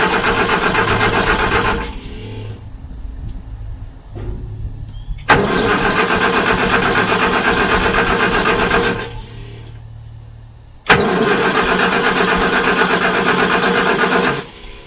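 A Morris Minor engine cranking loudly and close up as it tries to start, in three long bursts of steady whirring turnover with brief pauses between them, and it does not catch. No voices are heard.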